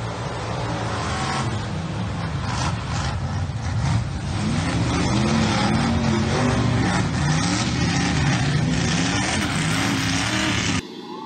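An 800-horsepower truck called Old Blue on 44-inch tires roars steadily and loudly at a truck night competition, its engine droning and revving continuously close by before cutting off abruptly.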